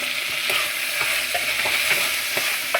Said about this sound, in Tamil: போட்டு நல்லா வதக்கி விட்டுலாம்